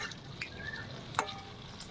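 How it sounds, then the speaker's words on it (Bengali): Mango fritters fry in oil over medium heat, a quiet, even close sizzle broken by one brief clink as they are turned over. "মিডিয়াম আঁচ দিয়ে আমি সুন্দর করে এটাকে ভেজে নেব ওপর নিচ নাড়িয়ে চাড়িয়ে নিচ্ছি"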